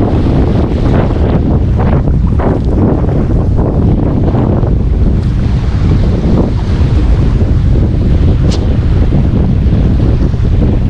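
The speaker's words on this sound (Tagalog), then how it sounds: "Lakas ng hangin." Strong wind buffets the microphone in a constant loud roar on a fishing outing in Mindoro, with low rumbling gusts throughout and a faint high whistle near the end.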